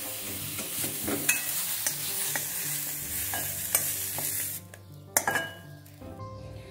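Sautéed onion is scraped and scooped out of a hot kadhai with a metal spoon, a soft sizzle under repeated scraping and clinking against the pan and bowl, ending quieter with a few louder clanks.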